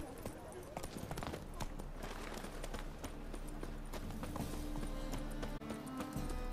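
Roach the horse gallops in The Witcher 3, with steady clip-clop hoofbeats running the whole time under spoken lines and other game sounds.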